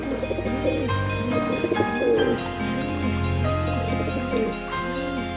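Countless pigeons coo on green grass beside a lake ringed by shisham, gulmohar and jamun trees, soft repeated rolling coos overlapping close by over a gentle steady background.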